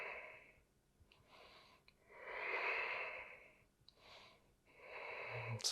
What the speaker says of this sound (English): And breathe into the chest.